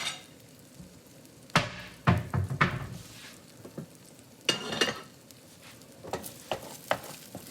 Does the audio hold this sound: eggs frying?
yes